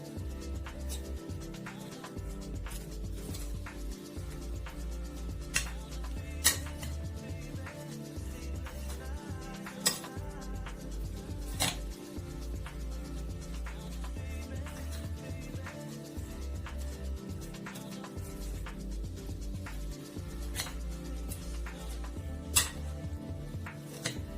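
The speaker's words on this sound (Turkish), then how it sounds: "Evet karışımımı karıştırdım şu anda tamamen" A leek and cornmeal mixture with a little oil stirred in a bowl, producing continuous close scraping and soft thuds with sharp clinks of the spoon against the bowl, steady throughout without speech.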